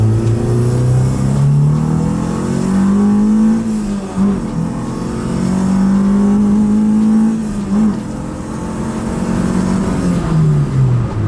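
K20-engined Honda Civic accelerates on the road, its engine note climbing steadily through the gears with brief dips at shifts, loud and close throughout.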